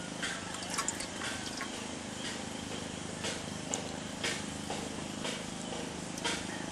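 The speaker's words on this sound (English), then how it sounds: "we'll put the standard 2 cups of water in there" Water poured into a small cook pot set up for an alcohol stove, a steady close trickling and splashing that runs continuously with faint soft drips, with no talk over it.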